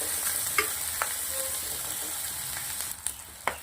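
Capsicum, carrots and hot red chillies sauté in a pan with a steady, close sizzle, broken by faint clicks and scrapes of stirring.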